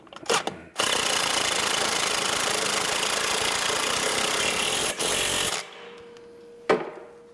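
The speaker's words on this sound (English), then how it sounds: "we're going to tighten it on with our impact" An impact wrench tightens a clutch cap screw during a belt replacement on a Wildcat Trail, a loud steady buzzing burst of about five seconds with a brief dip partway, then stopping, followed by a short clank.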